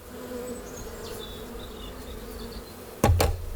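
Honey bees buzz steadily around a hive in a low, continuous drone, close by, ending in a sudden sharp clunk.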